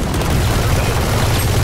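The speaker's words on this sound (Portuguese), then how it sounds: "Granada!" A grenade explodes in the video game Valorant, a loud, sustained low boom with rumbling debris that fills the whole short moment without pause.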